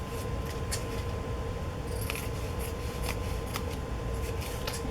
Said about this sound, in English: I'm just going to trim it.